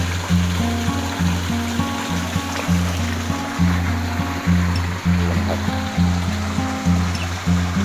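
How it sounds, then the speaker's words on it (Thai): Surface water spilling steadily into a pond skimmer, a continuous close rushing and trickling flow with a low, regular pulsing churn underneath and no voices. "หน้าน้ำไหลเข้าได้เป็นอย่างดีนะครับเคลียร์ผิวหน้าน้ำได้ดีเยี่ยมมากนะครับ"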